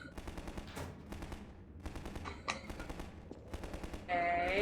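Rapid automatic gunfire from the Half-Life 2 video game, bursts of repeated shots spread through the clip, then a louder sustained sound near the end.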